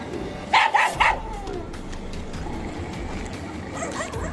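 A dog fending off attacking baboons lets out three sharp, close barks in quick succession, followed by a lower wash of background noise with faint scattered cries.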